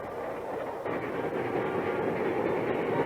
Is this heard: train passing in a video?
yes